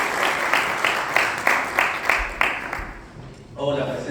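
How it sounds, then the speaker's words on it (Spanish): A Spanish-speaking church congregation claps in a steady, even rhythm of about three beats per second, fairly close, under a voice. The clapping fades near the end as the voice carries on. "Da un aplauso al Señor."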